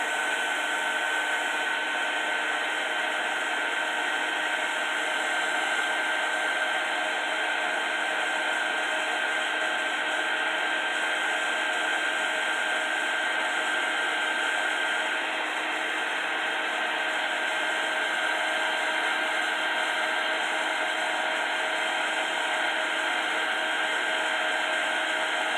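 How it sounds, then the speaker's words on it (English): A heat embossing tool blows steadily over embossing powder on a handmade Christmas card, giving a loud, unbroken fan-like roar with a faint whine that holds for the whole stretch, with no talk over it. "I'm just going to emboss this down, let this get warm."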